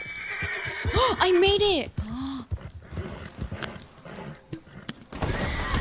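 A horse in Red Dead Redemption 2 lets out a loud, close whinny with a rising and falling pitch, amid game noise and hoof knocks, and a person speaks briefly over it.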